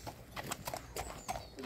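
A horse's hooves clip-clop on a farm, several distinct close strikes in an uneven walking rhythm, fairly quiet and alone.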